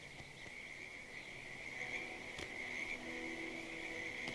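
Frogs croaking in a creekside setting in Hitman 2: a steady high chirping trill with faint croaks and insects, soft and continuous, plus a couple of brief clicks, with no talk.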